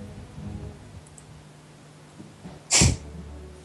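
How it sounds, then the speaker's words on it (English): A single sharp sneeze, sudden and fairly close, after a few seconds of quiet background murmur. "Bless anyone that sneezed."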